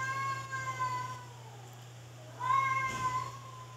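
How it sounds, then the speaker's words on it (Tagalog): A cat meows twice, drawn-out cries a couple of seconds apart, over a steady low electrical hum with no talking. "Ang ingay talaga ng pusa."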